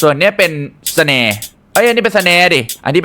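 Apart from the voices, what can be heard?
None of the usual background noises is heard.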